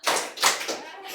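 A group playing a hand-clapping counting game in a writing workshop, with three or four separate loud clap bursts spaced unevenly in quick succession.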